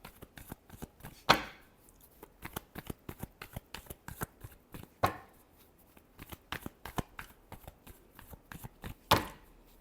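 Tarot cards are shuffled close by in quick riffled bursts and taps, with several louder snaps scattered through an uneven rhythm.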